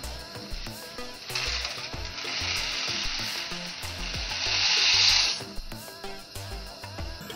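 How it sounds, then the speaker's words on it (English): Steady bubbling and sizzling from a pot of boiling water on the stove for macaroni and cheese, swelling louder midway with a bright hiss, with occasional clinks and knocks. "So now the water's boiling"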